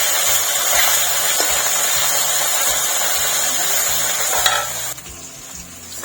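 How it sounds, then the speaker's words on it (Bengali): Steady, dense sizzling of bata fish frying in hot oil, continuous and close, with faint clatter from the pan near the end. "লাল লাল করে ভেজে নেব মাছটা। খুব সুন্দর কালার আসছে।"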